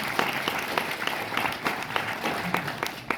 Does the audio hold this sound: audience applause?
yes